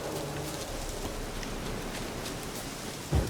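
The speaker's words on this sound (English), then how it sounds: "Looks like rain." Rain falls steadily in the video game The Witcher 3: Wild Hunt as a soft, even hiss, with a brief low thump near the end.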